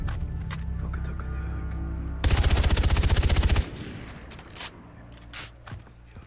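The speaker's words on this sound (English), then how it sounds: "Is this assault rifle?" Rapid automatic assault rifle fire in the Far Cry 3 video game, one sustained burst of about a second and a half with evenly spaced loud shots over a low game soundtrack, then quieter clicks and effects afterward.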